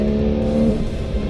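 A Porsche 911 GT3 engine drones loudly and close on a race circuit, holding a steady, buzzing pitch for the whole short moment.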